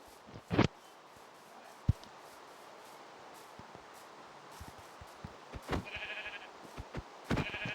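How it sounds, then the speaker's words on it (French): Sheep in the Minecraft video game bleat in a few short, separate calls over a soft rustling background, fairly quiet and with no talking. "là-bas, il y a un mouton."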